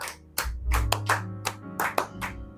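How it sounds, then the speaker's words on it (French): Church congregation at a Sunday service bursting into applause: a dense run of hand claps, loud and close, with irregular sharp peaks over about two and a half seconds. "On acclame le Seigneur."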